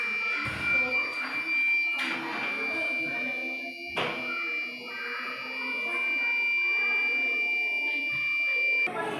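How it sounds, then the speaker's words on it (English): A smoke alarm buzzer sounds a steady high-pitched electronic tone continuously in a school robotics class while people talk and items clatter nearby. "the alarm beeps and red light on"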